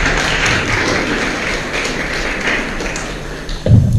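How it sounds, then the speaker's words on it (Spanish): A church congregation at a Spanish-language sermon applauding together, a dense, steady wash of clapping that holds for several seconds before a few louder claps near the end. "Dale un aplauso al Creador."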